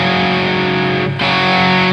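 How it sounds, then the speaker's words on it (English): Brief burst of heavily distorted electric guitar through an MXR Distortion Plus pedal, a thick sustained fuzzy tone with a quick dip before ringing on. "There's an MXR Distortion Plus."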